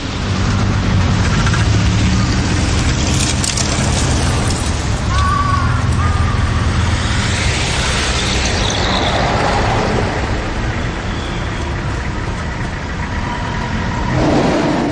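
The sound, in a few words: road traffic at a pedestrian crossing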